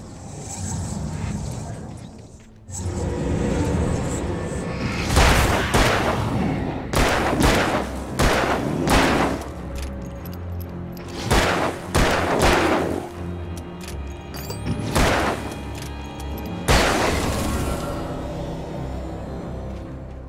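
Video game gunfire from Alan Wake, a series of sharp broadband shots in bursts with clusters of reports through the middle and later stretches, loud and close over a continuous rumbling game soundscape.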